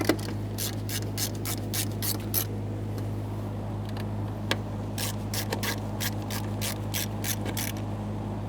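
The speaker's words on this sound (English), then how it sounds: "Start in all 3 of your Phillips head screws and snug them up." Phillips head screws being snugged up on a 1992-1996 Toyota Camry rear suspension, heard as bursts of rapid ratchet clicking, close and fairly quiet over a steady low hum, pausing midway before resuming.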